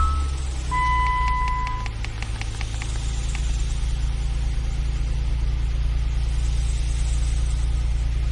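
Inside a car with a diagnostic scan tool hooked up, a short series of dashboard chimes sounds as the engine comes on, then a steady, low idle hum continues evenly to the end.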